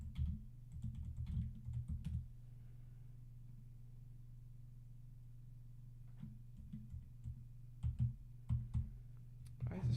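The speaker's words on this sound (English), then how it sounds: "Sorry, I gotta use my keyboard here." Computer keyboard keys clatter in quick bursts of clicks near the microphone, stopping for a few seconds and then resuming, over a low steady hum.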